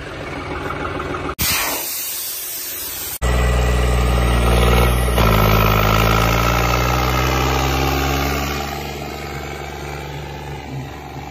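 A John Deere 5210 tractor fitted with new 26-inch tyres and no U-pipe on its exhaust runs loudly up close. The engine holds a steady, throbbing idle, briefly revs with its pitch rising, then settles back to a rumbling idle.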